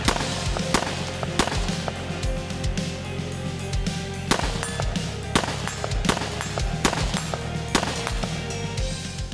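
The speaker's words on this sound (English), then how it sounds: "So I'm gonna shoot a few with the lumens Scout, and then I'm gonna turn on the turbo." Rifle shots fired with a weapon light mounted, sharp loud cracks spaced irregularly over a constant low hum, about a dozen reports with echoing tails.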